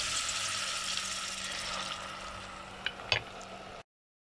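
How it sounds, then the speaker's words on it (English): Water is poured into a pot of yellow potato curry, giving a steady hissing splash that thins out, then a couple of brief clinks before it cuts to silence. "A little bit of water so it does not catch at the bottom"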